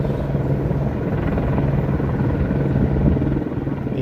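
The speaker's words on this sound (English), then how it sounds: "I wish I could tell that helicopter to fuck off" A helicopter passes overhead near a university campus, a loud continuous rumbling thump that holds steady throughout, with no talking.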